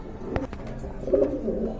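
A pair of fit pigeons for sale gives a few close, throaty coos, rising to a clearer burst of cooing near the end against faint room noise.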